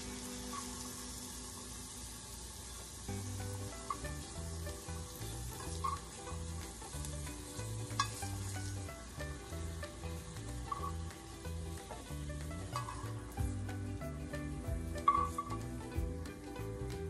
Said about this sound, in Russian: Мы сейчас на нем будем обжаривать огурчик.